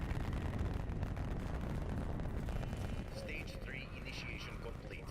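A rocket ignites and launches on the Ascension map of Call of Duty Black Ops 3 Zombies. A loud, continuous roaring rumble fills the scene with a few higher crackles on top, and someone talks over it.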